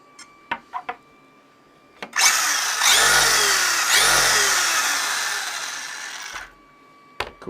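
A Tekno SCT410SL RC short course truck's electric motor is throttled up on the bench with a loud, sustained whine rising and falling in pitch for about four seconds. A few sharp clicks come before and after.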